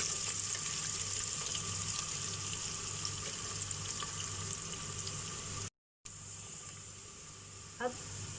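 Onions fry in a pot for a mutton stew, a steady close sizzle running throughout with a brief dropout partway and a small clink near the end.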